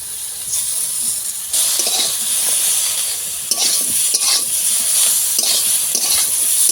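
Spices and salt stirred and frying in a pan for a fish curry with potato and eggplant, a steady sizzle with scraping stirs and spoon clinks, close and loud, no talking.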